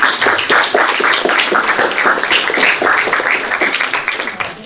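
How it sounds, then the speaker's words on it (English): Audience applause at a League of Women Voters candidate forum in Niskayuna, a crowd clapping steadily and fairly loudly in a meeting room, easing slightly near the end. "let's get a round of applause."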